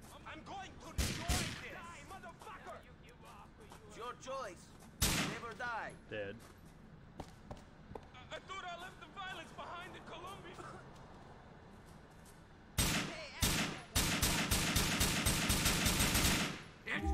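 Gunfire in GTA IV: several bursts of rapid shots in clusters, loudest toward the end, mixed with shouting and talk between volleys.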